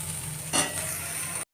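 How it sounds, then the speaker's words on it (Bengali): Leafy greens fry in a pan with salt and turmeric, giving a constant close sizzle broken by one brief scraping stir partway through before it cuts off. "শাকটা ভাজা করে নিই, এর মধ্যে নুন হলুদ দিয়ে"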